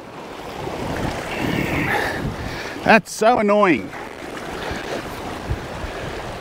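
Bow waves from a passing boat wash against a breakwall in a steady broadband rush, while a nearby person briefly speaks in the middle of it.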